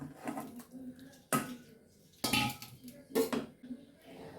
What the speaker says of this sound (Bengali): দিয়ে দিচ্ছি জল মাছ আর বেগুনটাও দিয়ে দিচ্ছি